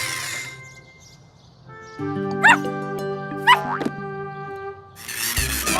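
A cartoon dog in a children's animated series gives a couple of quick yelping barks over sustained, bright musical tones, then the music cuts to a new sound.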